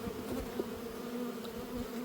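Honey bees buzz steadily around a hive during a summer hive check, a continuous close drone with single bees passing near, with no talk.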